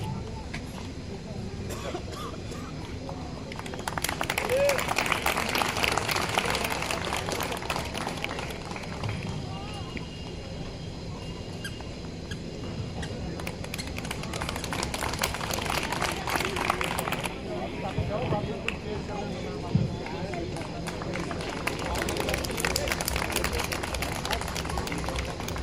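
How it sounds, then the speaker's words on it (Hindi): Applause at a CRPF foundation day and Holi celebration, with a large crowd clapping in long sustained stretches that rise and fall in waves over the venue's background noise. "कृपया तालियों की गूंज बरकरार रखें।"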